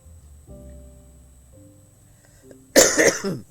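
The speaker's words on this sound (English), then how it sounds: "I'm still really coughing." One person coughs, a single harsh burst close by, after a few seconds of quiet room sound with faint tones.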